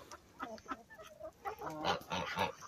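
Hens of a mixed flock including Sussex and Leghorn breeds cluck softly in a steady, irregular chatter, several birds close by with layered overlapping calls.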